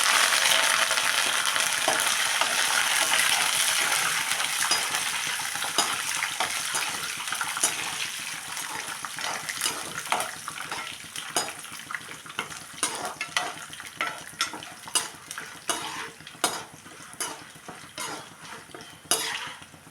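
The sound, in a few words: dried red chillies and curry leaves frying in tempering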